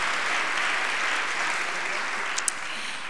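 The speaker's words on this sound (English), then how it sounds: "Once again, applause for the West Toronto Junction Historical Society, Neil Ross." An audience at an evening heritage awards ceremony in Toronto applauds in a steady, sustained burst of clapping that fills the room without pause.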